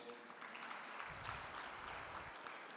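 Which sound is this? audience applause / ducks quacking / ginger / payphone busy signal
audience applause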